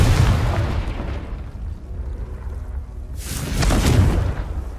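A Confringo fire spell cast in the wizarding game Hogwarts Legacy explodes in a loud, rumbling boom that fades over a couple of seconds, then a second heavy blast bursts and roars near the end.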